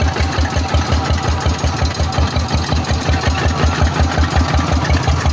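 A walk-behind tractor engine runs in gear at a steady pace, a loud, close, rhythmic chugging thump with a rattling mechanical overtone throughout and no talk.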